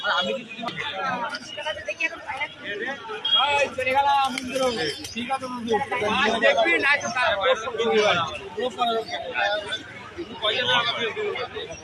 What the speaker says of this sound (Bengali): সব ভালো মানের পায়রা আছে, ঠিক আছে।